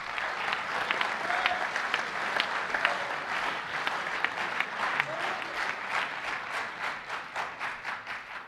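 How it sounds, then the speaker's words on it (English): An audience at a Mississippi Boys State assembly gives steady, fairly faint applause, a dense patter of many hands that thins and fades toward the end. "Yeah, you can clap for that."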